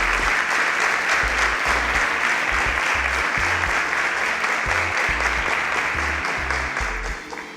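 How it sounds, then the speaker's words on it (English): An audience applauds after a team presentation at a Nigerian pitch competition event, a dense steady wash of clapping that fades slightly at the close. "A round of applause."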